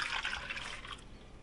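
Whole milk is poured into a pot. A soft, brief liquid splash and trickle fades out after about a second, faint and alone.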